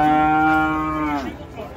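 A single loud, drawn-out moo from a cow close by on a truck, holding steady for about a second before dropping off into quieter background noise.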